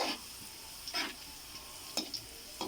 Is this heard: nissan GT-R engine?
no